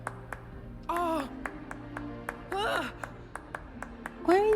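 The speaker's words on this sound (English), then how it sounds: "Why are you clapping?" In the video game Hogwarts Legacy, a character's sharp, isolated hand claps land in a sparse rhythm, interrupted by short bursts of game voices and chirpy sound effects.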